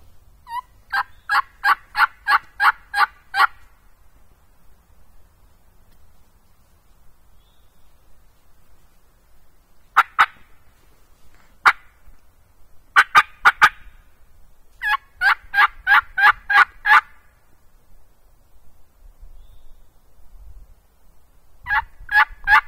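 Wild turkey gobbling on public hunting land in Wisconsin: several clear bursts of rapid, rattling gobbles spaced across the clip with quiet gaps between them, and no talk.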